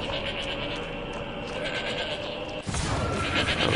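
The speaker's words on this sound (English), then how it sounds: "Look at that goat, he's just cussing. You hear that goat?" A goat bleats in the video game Shadows of the Damned, its cries sitting in dense game ambience, with a sharp burst of louder noise near the end.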